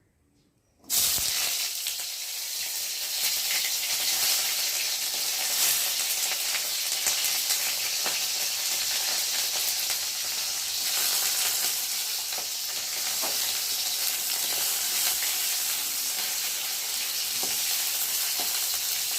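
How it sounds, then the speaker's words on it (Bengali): Bitter gourd frying in a hot kadai, a steady loud sizzle that starts abruptly after a second of quiet and holds on evenly with faint scraping stirs throughout. "এখন আমি উচ্ছে কটা ভালো করে ভেজে নেব প্রথমে"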